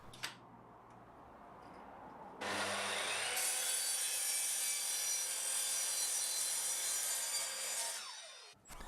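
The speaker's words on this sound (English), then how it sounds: "I could flip it over and finish the cut" A miter saw cuts through a wooden bracket held by hold-down clamps: after a quiet start, the blade bites in with a loud, sustained rasping whine for about six seconds, then winds down abruptly near the end.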